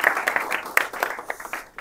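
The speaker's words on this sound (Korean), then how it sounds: "오늘 이렇게 귀한 시간 내주신 이존화 교수님을 큰 박수로 맞이해 주시기 바랍니다." A lecture audience welcoming a visiting university professor claps in a short, scattered burst of applause, fairly quiet and thinning out within about two seconds.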